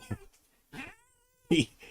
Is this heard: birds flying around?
no